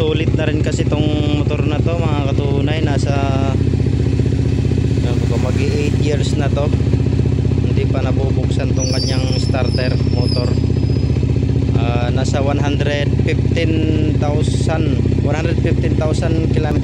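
A motorcycle engine, about eight years old with 115,000 km on it, idles steadily at close range, a constant low rumble, while someone talks over it.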